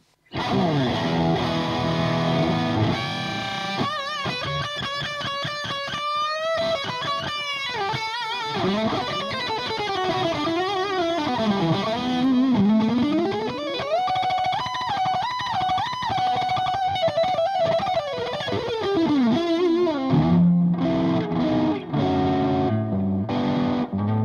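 Bright overdriven electric guitar through a Fulltone Fulldrive 1 pedal in vintage mode, tone fully up, plays a long passage of bends, runs and chords, close and continuous, with a few short stabs near the end.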